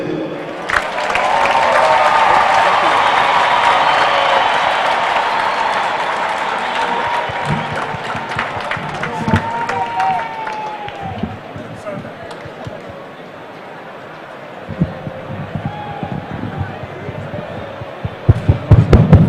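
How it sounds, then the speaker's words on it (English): Crowd applause at the official commissioning of Hoima City Stadium in Uganda, a broad, sustained wash of clapping that is loudest early and slowly thins, with voices and some talk running beneath it. "Can we clap for the President?"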